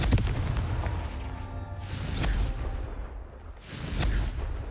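The Confringo blast spell in the Hogwarts Legacy video game goes off as several booming, whooshing bursts over a low rumble, loud and close.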